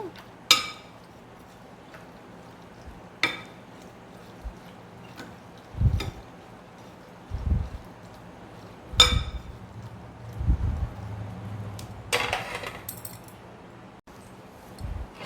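A spoon clinks against a glass in a few sharp, scattered taps while milk is mixed into juice, with soft knocks and handling noises between them and no talking.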